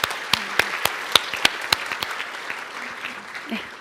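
Applause from an audience at a Korean science and technology policy forum, with sharp individual claps standing out at first, then settling into a steadier patter that fades toward the end, with faint talk underneath.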